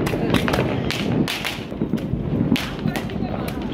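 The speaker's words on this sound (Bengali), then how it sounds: "সবাই হ্যাপি নিউ ইয়ারের যে আতশবাজি এগুলোর উদযাপন করতেছে এখান থেকে" New Year fireworks in Mauritius crack and thud in a dense, steady barrage of sharp bursts, some close and loud, with faint voices in the background.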